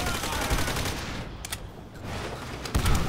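Rapid gunfire shooting at barrels in Call of Duty: World at War on PC, loud close bursts that break briefly and then resume, with no voices.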